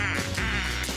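A loud, close duck quack as a sound effect in a radio advertisement, one drawn-out nasal call with a couple of rasping pulses, alone and without talk.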